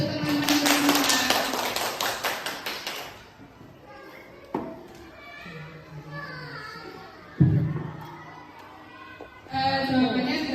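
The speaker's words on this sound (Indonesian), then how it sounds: "Tepuk tangan untuk teman-teman semua." Applause from participants at an Indonesian teacher training session on positive discipline, a few seconds of dense clapping at the start that fades out, followed by quieter room noise and a few bumps.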